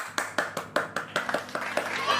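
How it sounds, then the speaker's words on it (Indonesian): Audience at a Balinese-language short story recitation clapping in a sparse, steady rhythm of distinct claps, a small group close by, with voices faintly underneath. "penonton tepuk tangan dong"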